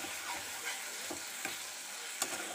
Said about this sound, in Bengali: তো দেখো মাছের মশলা কষানো হচ্ছে